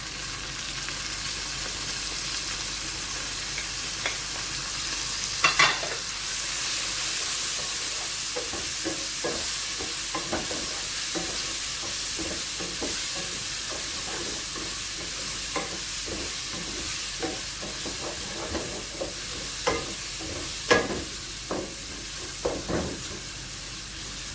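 Steady sizzling of ginger-garlic paste frying in a hot pan for masala chicken, with occasional stirring scrapes and clicks, close and continuous.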